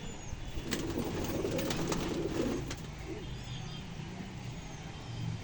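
Pigeons, including females being readied for breeding, coo softly in low, murmuring phrases, strongest in the first few seconds and then fading, over a steady background hum that suggests distant traffic.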